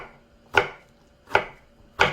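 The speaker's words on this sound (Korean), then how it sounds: "자, 이렇게 해서 채 썰어 주시면 됩니다" A knife julienning garnish vegetables for white kimchi strikes the cutting board three times in an even, unhurried rhythm. Each chop is crisp and close with a short decay, and there is quiet between the strokes.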